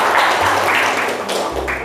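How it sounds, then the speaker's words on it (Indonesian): A 7th-grade class of children claps together in an Islamic studies classroom, producing a loud, dense burst of close-up clapping with a low hum underneath, lasting under two seconds. "Oke, tepuk tangan."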